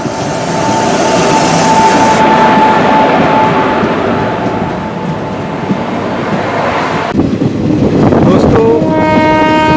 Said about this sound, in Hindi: देखिए, एक और गुड्स ट्रेन दूसरी ट्रैक पे खड़ी है और हमारी यह पैसेंजर ट्रेन इसे क्रॉस